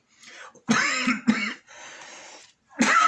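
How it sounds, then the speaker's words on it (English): A man clears his throat and coughs harshly several times in close, loud bursts, a smoker's rasp with short pauses between the rough hacks. "That terrible throat thing there. And it's not my throat chakra, that's years of smoking."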